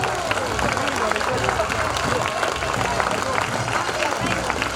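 Dense, continuous clapping from a crowd at an outdoor Celtic festival in Châtelaillon, saluting a town neighborhood, mixed with murmuring voices and babble throughout.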